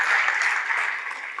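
Church congregation applauding in the name of Jesus during a televised service, a dense, steady wash of many hands clapping at close range, with no talk over it.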